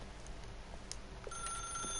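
Telephone ringing in The Stanley Parable video game, a quiet electronic ring that rises over a faint background hum.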